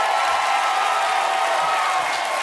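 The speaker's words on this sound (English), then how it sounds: "Everybody, round of applause for Wiz Khalifa." A studio audience gives Wiz Khalifa a dense, sustained round of applause with some cheering, loud and steady throughout.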